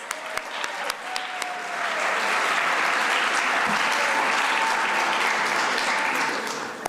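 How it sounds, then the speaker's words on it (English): A room full of people applauding at a speech competition night, starting with scattered claps and building into a sustained, loud round that tapers off at the end. "One more round of applause"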